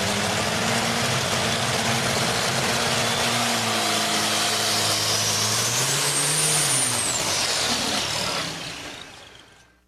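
A pulling tractor runs a 1,100-cubic-inch twin-turbo V8 Sherman tank engine at a fairground pull, giving a loud, steady low drone that swells and climbs in pitch before fading near the end.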